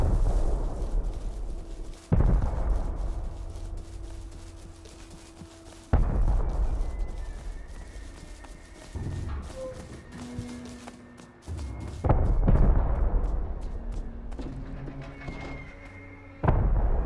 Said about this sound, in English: I heard some explosions coming from the Goblin base during farming.